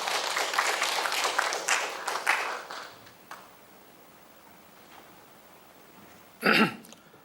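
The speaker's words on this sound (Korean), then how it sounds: "여러분 박수로 맞이해 주시기 바랍니다" Modest audience clapping welcomes a speaker at a Buddhist seminar, fading after about three seconds into quiet room tone, with a cough-like sound near the end.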